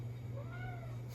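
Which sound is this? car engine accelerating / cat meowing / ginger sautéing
cat meowing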